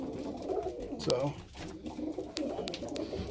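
Pet pigeons newly paired in a breeding pen coo repeatedly in low, rolling calls close by, while someone talks over them.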